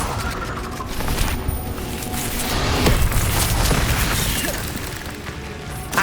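A Confringo blasting-spell explosion in Hogwarts Legacy: a dense, loud, sustained burst of crackling booms and debris that swells in the middle and tapers off over several seconds.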